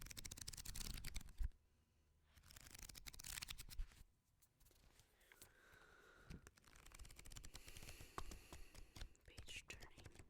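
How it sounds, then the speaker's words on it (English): Book pages turn softly and close to the ear in an ASMR whisper session, crisp papery rustles and flicks in short bursts separated by quiet gaps. "Page turning."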